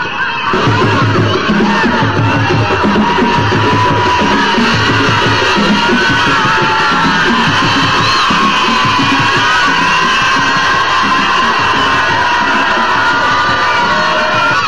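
A large outdoor crowd in Mali cheers, shouts and whoops to greet the Malian head of state and the King of Morocco riding in a convertible, a loud, dense roar sustained throughout.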